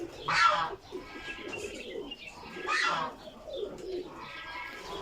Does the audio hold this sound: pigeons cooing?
yes